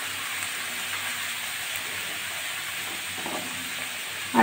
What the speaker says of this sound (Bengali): আলুগুলো প্রথমে একটু হালকা করে ভেজে নেব।